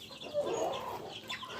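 Hill-breed hens at a backyard coop, some of them now laying eggs, give a soft run of low clucking, fairly close but quiet, with no one speaking.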